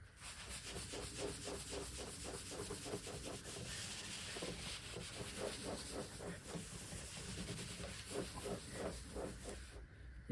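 Cured epoxy is sanded by hand with quick repeated rubbing strokes in a steady rhythm, faint and close, with no one speaking.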